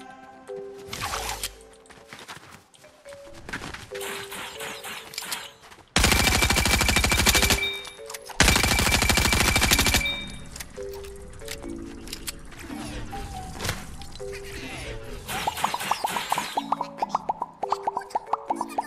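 Video game gunfire in Fortnite Streamer Life Tycoon: bursts of rapid automatic shots and single pops mixed with game effects, with two long loud volleys standing out in the middle.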